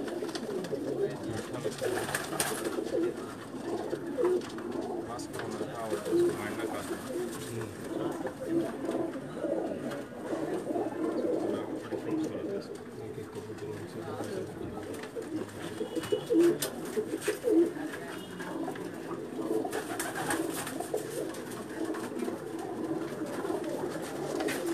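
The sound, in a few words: Pakistani pigeons cooing on a Jeddah rooftop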